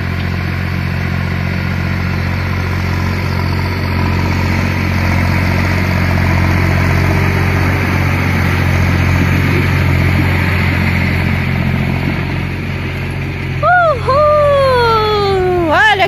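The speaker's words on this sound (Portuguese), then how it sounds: "esse foi o dia do trator trabalhando" A heavy tractor engine drones steadily and loudly nearby while plowing a field, its low rumble unchanging throughout, with a brief warbling higher sound near the end.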